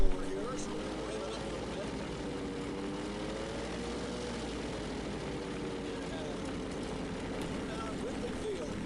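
A small propeller airplane's engine drones steadily and fairly loudly as it is revved to taxi up a big hill on the ground, a continuous hum with slight pitch wavering and talk faint in the background.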